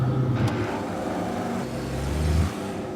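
A car accelerates in the video game Dark World: Equilibrium, its engine droning steadily and rising slightly in pitch, fairly close and without talk.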